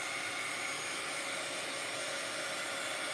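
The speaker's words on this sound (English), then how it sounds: "So I just shoot my dryer." A hair dryer blows steadily on envelopes coated with wet decoupage polish, giving a constant broadband whoosh that runs unbroken throughout at moderate volume with no talk.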